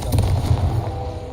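A Confringo blasting spell from the Hogwarts Legacy game detonates as one short booming explosion with a deep low rumble that rolls on loudly for over a second.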